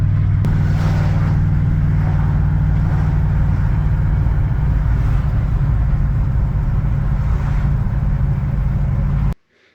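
A 1950s car with 70 years on it cruises along, its steady engine and road rumble loud and continuous, with wind noise on top, until the sound cuts off abruptly at the end.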